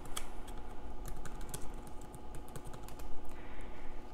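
Typing on a computer keyboard while searching for design elements, a close stream of light, quick key clicks with a soft low background hum.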